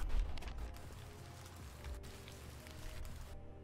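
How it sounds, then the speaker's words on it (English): Steady soft rain hiss with faint patter, a continuous wash of droplets at low volume that cuts out abruptly near the end. "And then you add rain, some rain."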